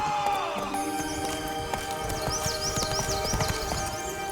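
Horse hooves clip-clopping at a steady gallop in The Witcher 3: Blood and Wine, a quick even rhythm under music and game ambience, with a brief whinny near the start.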